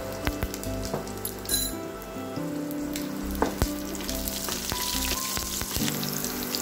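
Green chillies, alongside dried red chillies, sautéing in a pan of hot oil for chilli bread, a steady close sizzle with occasional stirring clinks and scrapes.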